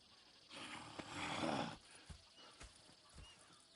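Horses in Red Dead Redemption 2 let out a soft, breathy neigh or snort lasting about a second, followed by faint scattered hoof clops and shuffles at a low overall level.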